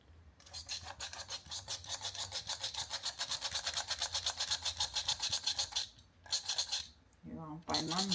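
Flour is sifted through a sieve for an eclair dough in a home kitchen, making a fast, rhythmic rasping shake that lasts several seconds and then stops in short bursts. A brief voice comes at the end.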